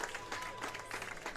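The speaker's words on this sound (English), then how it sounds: "with the nice clap from the spectators" Spectators at a girls' rugby match give a brief round of polite clapping, moderately distant and fairly faint, with a commentator's voice faintly over it.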